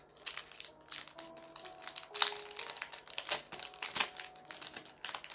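A plastic bag crinkles and rustles close by in irregular bursts while someone unpacks a candy-making kit indoors, with no talk.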